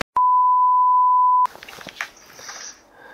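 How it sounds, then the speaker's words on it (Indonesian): A phone call begins with a single steady electronic tone that holds for over a second, then cuts off into faint background noise and rustling. "Langsung kita telepon Gilang."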